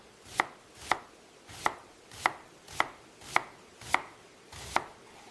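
A knife thinly slicing onions for smash burgers gives eight crisp, evenly spaced chops against a cutting board, close and clear with no talking.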